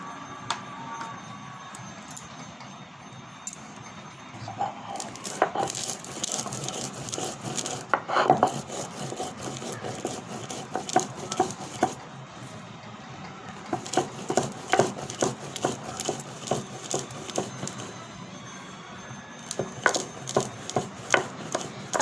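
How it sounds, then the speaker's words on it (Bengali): Roasted flaxseed is ground by hand on a stone grinding slab, producing repeated gritty rubbing and knocking strokes in uneven bursts, close and fairly quiet, with brief pauses between passes. "আমি পাটায় বেটে নিচ্ছি"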